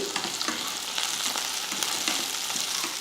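Dried red chillies and tamarind sautéing in a pan, a close, continuous oily sizzle with soft stirring scrapes throughout.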